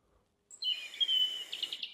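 A bird whistle kept as a Cadillac accessory gives a short burst of high, warbling chirps imitating a bird call, clear and close, with no talk.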